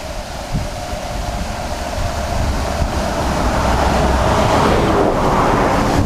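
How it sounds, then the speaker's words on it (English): Glacier-fed waterfall pouring down near melting snow beside a busy highway, a steady loud broadband rush that swells slightly over several seconds, with wind buffeting the microphone. "so here's the waterfall"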